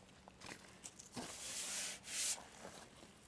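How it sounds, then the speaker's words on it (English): A Scotch-Brite pad scuffs baked, scaly old paint on a car's fenders and trunk lid. Quiet, close rubbing comes in short, uneven strokes, with two longer, louder passes near the end. "I gave it a little scuff with the Scotch-Brite to take the scale down"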